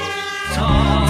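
Toy fire truck siren: a short, loud electronic tone rich in harmonics that swells into a harsher, buzzier wail after about half a second, heard alone and close.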